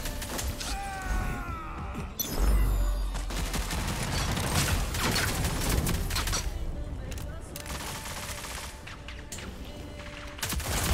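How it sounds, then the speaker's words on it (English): Gunfire in the video game Rogue Company, dense overlapping shots and crashes from several directions, loud and continuous throughout, with voices talking over the action. "They're getting shot from all sides right now."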